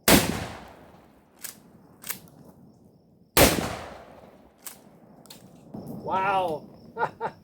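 A Mossberg Shockwave shotgun fires 2 3/4 inch, 1 ounce slugs, two sharp loud blasts a few seconds apart with ringing tails, followed by brief talk and faint clatter.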